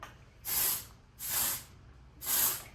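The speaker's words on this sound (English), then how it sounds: "We can even use a little bit of like a volume spray" Three separate bursts of Oribe volume hair spray hiss from an aerosol can, each lasting about a third of a second with short pauses between them.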